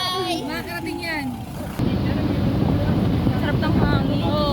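Strong wind buffets the microphone throughout, roaring louder in the second half. It comes during an outdoor trek toward Mt. Pinatubo from Juliana, Tarlac, and voices talk briefly at the start.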